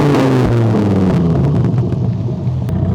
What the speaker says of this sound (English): let's see how loud it gets with a bit of a rev, higher rev